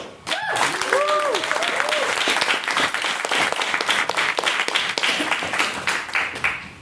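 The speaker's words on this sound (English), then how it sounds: "I appreciate the rapturous applause, everyone." Rapturous applause from a debating society audience, loud dense clapping sustained for several seconds, with a brief tonal whoop or voice near the start and some crowd voices mixed in.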